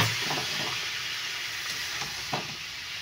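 Water splashed into frying masala for a pointed gourd and prawn curry in a pan, giving a steady close hiss and sizzle with faint stirring scrapes.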